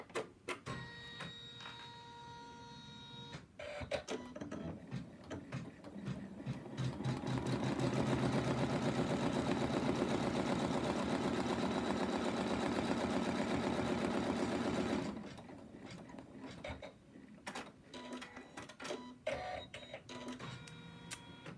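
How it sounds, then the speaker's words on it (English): An embroidery machine stitching out a placement line for a lamb design, a fast steady mechanical whir that builds for several seconds, runs loud and even, then stops, with clicks and brief motor noises before and after. "what the machine is first going to stitch out is a placement line where we're going to put our fabric"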